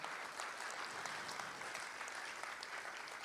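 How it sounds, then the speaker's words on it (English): An audience at a Bharatanatyam Arangetram dance recital gives steady, dense applause, a full continuous round of clapping heard throughout at moderate distance. "You too deserve a round of applause"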